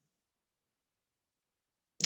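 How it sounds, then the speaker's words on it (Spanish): A single computer mouse click on a software button, short, sharp and close, arriving right at the end after near silence. "damos clic en el botón Grabar"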